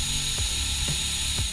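A power drill boring 3.5mm holes through the soft plastic housing of a Glade air freshener unit, with three short bursts of drilling about half a second apart over a steady close motor whine.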